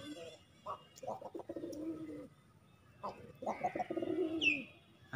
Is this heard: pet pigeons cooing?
yes